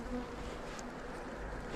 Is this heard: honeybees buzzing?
yes